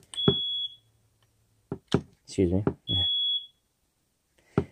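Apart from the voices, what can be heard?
smoke detector beeping from dying batteries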